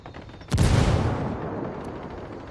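Rebel gunfire in the video game Ghost Recon Wildlands, set in Santa Blanca: a single sharp, loud blast cracks out near the start and trails off in a long echoing decay.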